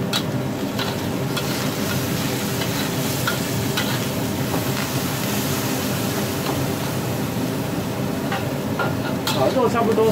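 Shredded pork stir-fries in a hot wok for egg fried rice, a steady loud sizzle with scraping and stirring clatter running throughout, close up and continuous.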